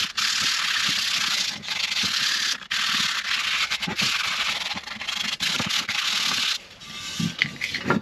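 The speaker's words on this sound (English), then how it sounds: "I think I'm going to very lightly sand it" A homemade motorcycle top box lightly sanded by hand, a steady, close, loud abrasive rasp running in long strokes with short pauses and no talking.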